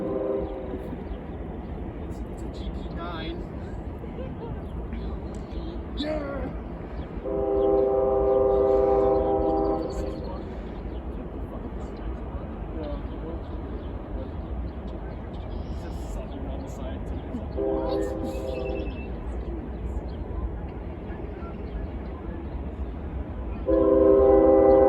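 A southbound Norfolk Southern freight train rolls past with a steady rumble, sounding its horn in several long blasts spread through the passage, the horn ringing loud and near over the continuous rail noise.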